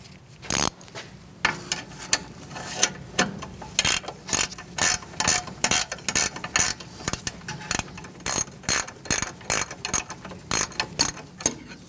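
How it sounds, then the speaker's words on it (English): A ratchet wrench backs out a rear brake caliper bolt on a 2008-2014 Mercedes-Benz C300, producing steady runs of sharp, rapid clicks in regular bursts, close and loud, over about twelve seconds with no voices. "you could switch to a ratchet wrench"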